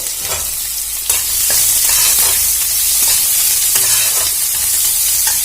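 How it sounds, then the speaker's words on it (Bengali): Chopped onions sizzle in hot oil in a pan, a loud, steady crackling hiss broken by scraping knocks as a spatula stirs them, with no one talking. "ভালো করে নাড়াচাড়া করে ভেজে নেব"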